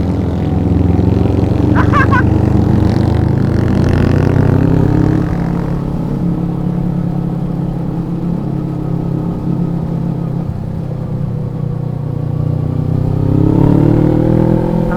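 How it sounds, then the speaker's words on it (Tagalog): A loud motorcycle engine idles and rumbles steadily up close, rising into a rev toward the end, with no talking. "Ingay ng motor nyo."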